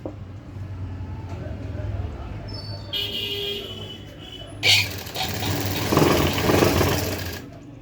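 A sewing machine stitching a folded strip onto a blouse neckline, its motor running in steady close bursts while someone talks over it.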